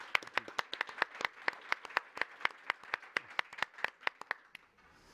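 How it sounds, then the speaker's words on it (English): Audience applause at a talk on hostage diplomacy, heard as a quiet, evenly paced series of distinct claps, about four per second, close and sparse as if from only a few hands, fading at the end. "Please give him a round of applause"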